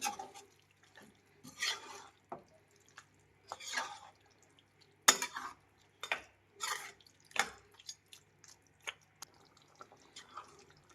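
Mutton fry being stirred in a pan, heard as intermittent scraping and sizzling bursts with a few sharp clinks of the spoon, close and moderately loud, with quiet gaps between strokes.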